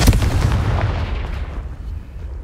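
The Confringo fire spell in the game Hogwarts Legacy detonates as a loud, booming blast that rumbles and fades over about two seconds, with no voices.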